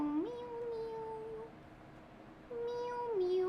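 Person imitating a cat gives two drawn-out meows, sliding up and then down in pitch and separated by a short pause, close and clear against a quiet background.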